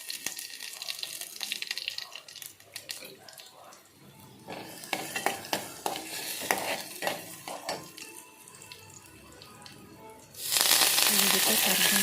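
Green chilies, coriander and curry leaves tempering in hot oil for a buttermilk sambar (majige saaru). Scraping and stirring come first, then a loud, sudden burst of sizzling near the end.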